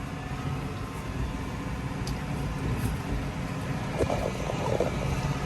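Tractor pulling a Case IH RB565 round baler through a field, a steady heavy engine drone with wind rush, building slightly in intensity toward the end, no talking.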